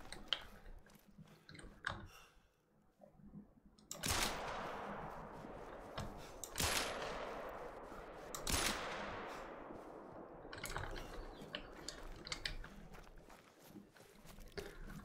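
Rifle shots ring out in the hunting video game The Hunter: Call of the Wild, with three sharp, loud cracks a few seconds apart over quiet background rustling and clicks.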